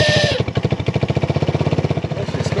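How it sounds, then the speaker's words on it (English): A YardSport YS200 side-by-side ATV engine catches after four months of sitting with the choke pulled, settling from a loud burst into a steady, rapid chugging idle close by. "Well, she started. She's running."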